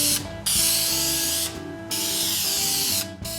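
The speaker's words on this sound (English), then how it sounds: "All that's left to do is to spray some lacquer." Bursts of aerosol lacquer sprayed onto a woven wooden cribbage board, three long hissing blasts separated by short pauses, close and loud over a faint mechanical hum.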